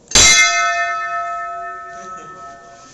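A single bright temple bell strike rings out loudly, then its metallic tone hums and slowly fades over the following seconds.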